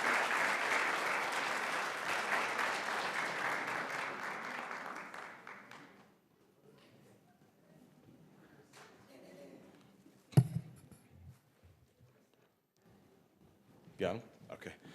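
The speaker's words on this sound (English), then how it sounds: "So ladies and gentlemen, let's give a big round of applause for our first winner, Easton Urban." A school board meeting audience applauds a first-grade student award winner, a full wash of clapping for about six seconds that stops abruptly, followed by a quiet room with a few scattered knocks and bumps.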